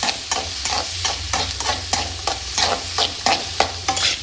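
Ingredients for lemon rice fry in a pan while being stirred in quick, regular strokes, each scrape landing as a sharp burst over a constant sizzle, about three per second, close and fairly loud.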